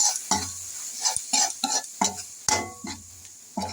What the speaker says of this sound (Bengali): এখন দিব আদা বাটা, তারপর একটু ভালো করে কষিয়ে নেব।